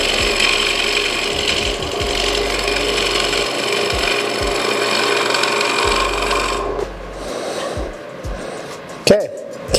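Green elm spinning on a wood lathe with a tool cutting, a continuous gritty rasping hum and low motor drone, then the machine stops leaving scattered knocks and rustles.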